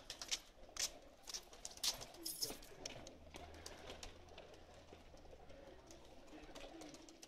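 Pakistani pigeons coo softly nearby in repeated low calls, accompanied by scattered clicks and rustling, the cooing settling into a quiet background murmur.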